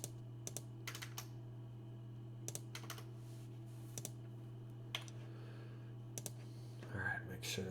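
Quiet computer keyboard typing, scattered clicks and short bursts of keystrokes, with a low hum underneath and a brief rustle at the end.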